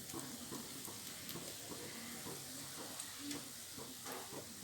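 Lentil fritter (garelu) batter frying in hot oil, a faint, steady sizzle and crackle that continues throughout without a break.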